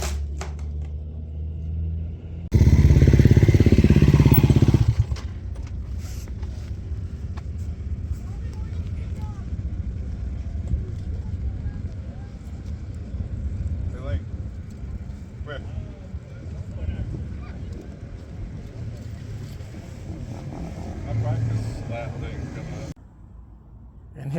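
Dirt bike fitted with an X-Grip Dirt Digger rear tire, ridden in a hare scramble race, its engine a steady mid-distance drone with a loud burst near the start and shifting revs throughout.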